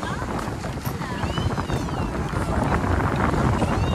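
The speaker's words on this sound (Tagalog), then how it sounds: "Malakas yung hangin." Strong wind on Boracay island buffets the microphone with a steady, loud rush, with faint voices and creaking underneath.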